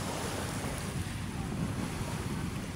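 Sea waves at Manila Bay wash in a steady, rumbling surf mixed with heavy wind buffeting the microphone, fairly quiet overall and continuous with no voices.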